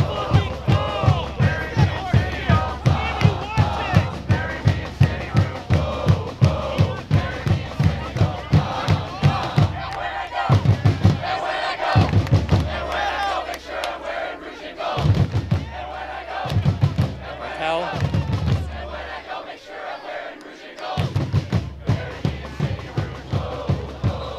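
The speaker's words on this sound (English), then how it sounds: "I really like when the Northern crowd gets so loud that I have to turn it off" Detroit City FC supporters at an away football match in Ann Arbor roar and chant in loud rhythmic bursts with thudding beats, surging and pausing across the stands.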